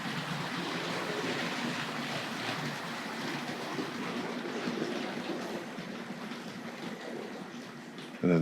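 A heavy Hornby Dublo West Country Class model locomotive, Dorchester, rolls along model railway rails into a station, a steady continuous rumbling hiss that fades slightly toward the end before a brief louder knock.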